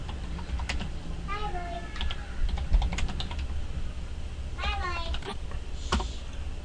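Computer keyboard keys clatter in quick irregular bursts as commands are entered, close and fairly loud, with a voice chattering in the background.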